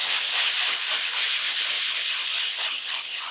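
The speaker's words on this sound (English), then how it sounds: "Sand that nice." Spackle on a repaired nail-pop patch in a wall being sanded by hand, a steady close scratchy rubbing that runs continuously and loud with no pauses.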